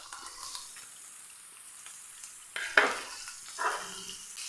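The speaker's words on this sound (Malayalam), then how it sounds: "ഒന്ന് ബ്രൗൺ ആയി വരുമ്പോൾ നമുക്കിതിലേക്ക് സവോള ചേർക്കാം." Onion frying in a pan with browned ginger and garlic, heard as a steady close sizzle with bursts of stirring and scraping partway through, and no talk.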